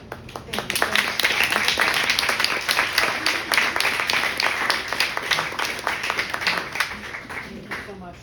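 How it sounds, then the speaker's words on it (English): An audience at a poetry reading claps in steady, dense applause that lasts several seconds and then gradually thins out, with voices faintly under it. "Another round of applause for Murray, Christina, and Alice."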